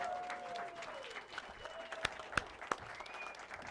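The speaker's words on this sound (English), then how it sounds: "let's have a round, warm welcome of applause for Miss Lynn Blackman Carone" Warm applause from a late-night show audience welcoming a guest, a steady wash of clapping with a few sharp louder claps near the end and faint tonal sounds over it.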